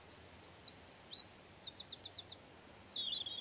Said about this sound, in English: Let's just listen to the birds.